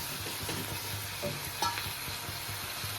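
Ridge gourd curry being stirred in a pan, a soft continuous sizzle with light scraping strokes, close but quiet, no talking.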